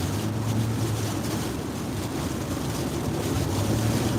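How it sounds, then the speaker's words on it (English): Strong hurricane wind from Hurricane Nicole roars around a moving vehicle near Delray Beach and North Boca Raton, Florida, a steady dense rush with low rumble throughout and no talk. "Wind is dialing up."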